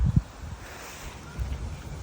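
Wind blowing outdoors on a cold, sunny day at a playground, a steady low rush with soft buffeting gusts against the microphone, close and moderately loud.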